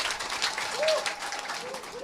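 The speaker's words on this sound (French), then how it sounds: "Monsieur, on va applaudir s'il vous plaît, Monsieur Botibi Goyi Mathias." An audience at a village gathering in Côte d'Ivoire, recorded for radio, applauds with a soft, continuous patter of clapping mixed with voices and a brief whistle-like tone.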